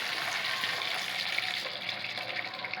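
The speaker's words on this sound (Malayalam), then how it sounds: "നേരത്തെ വെച്ച മരിച്ചിന് തിളച്ച് ഒരു വെള്ളം നമുക്ക് ഊറ്റിയെടുക്കാം" Water from boiled tapioca pours steadily out of a pot as it is drained off, a continuous close splashing gush with no talk.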